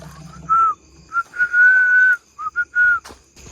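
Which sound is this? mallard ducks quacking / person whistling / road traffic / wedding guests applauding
person whistling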